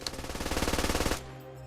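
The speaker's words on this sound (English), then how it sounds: "machine gunners, light cars, and helicopters firing hate at 1100 rounds per minute" Rapid machine gun fire at around 1100 rounds per minute from a game's Iranian ground forces, a fast, even burst of shots lasting about a second before cutting off into a low lingering hum.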